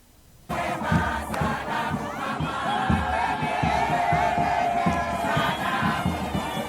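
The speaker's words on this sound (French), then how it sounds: "Une foule en liesse composée de militants de partis politiques, d'associations locales, d'élèves, de groupes de femmes et d'artistes traditionnels a accueilli la Première ministre" A jubilant crowd of party activists, local associations, schoolchildren, women's groups and traditional performers welcomes the Prime Minister in a province, loud continuous cheering and shouting with rhythmic drumming pulses starting abruptly after a brief quiet moment.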